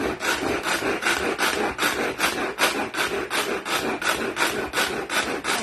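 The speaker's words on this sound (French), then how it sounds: "Tout bien haché, finement, même mon ail." Finely chopping garlic with a knife on a board in a cooking workshop: rapid, regular close chopping strokes, about three per second, loud and continuous with no talking.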